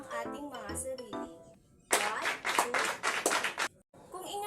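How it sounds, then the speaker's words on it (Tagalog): Classroom clapping during a lesson, a run of quick claps from a group of students after a teacher speaks; the clapping is fairly loud and brief, and talking comes before and after it. "Bigyan natin ng 3 palakpak ang ating mga sarili."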